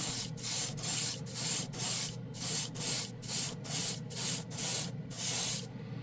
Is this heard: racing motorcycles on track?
no